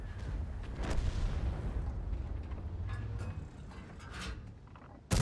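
Tank cannon fire in a video game: a deep rumbling boom with a long roll-off, a few sharper cracks and clanks over steady engine rumble, and a loud sudden blast at the end.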